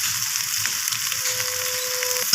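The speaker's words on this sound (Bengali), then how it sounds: "সব কিছুকে ভালোভাবে কষিয়ে নিচ্ছি আমি" Fried potato and kohlrabi being sautéed in a pan for a rohu fish curry, giving a steady close sizzle with soft scraping stirs, plus a faint thin tone running through the latter half.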